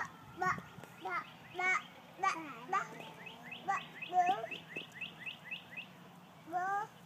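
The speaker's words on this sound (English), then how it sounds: "Bird." Outdoors on a grassy lawn, repeated chirps from a bird, high and fairly near, with a voice and babbling mixed in throughout.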